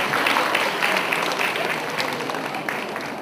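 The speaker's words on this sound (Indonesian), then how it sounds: "Terima kasih. Tepuk tangan sekali lagi." Steady applause from an audience at a financial planning expo, a dense wash of clapping that holds evenly and slowly tapers slightly toward the end.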